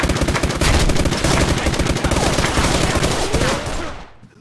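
Heavy rapid gunfire in the shooter game SKILL Special Forces 2, loud continuous automatic bursts and blasts that fade out toward the end, no speech.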